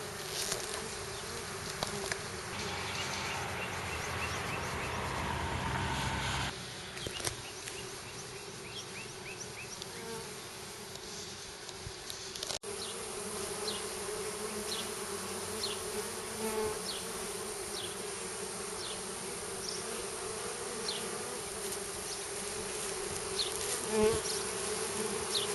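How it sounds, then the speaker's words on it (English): Dense, steady buzzing of a honeybee swarm, many insects droning together close by, continuous throughout with no voices. "Bees everywhere."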